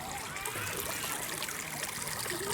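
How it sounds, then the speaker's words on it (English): A small brook in a zoo nature reserve trickles steadily, a soft continuous burble of running water with a faint hiss, no voices over it. "There's this brook."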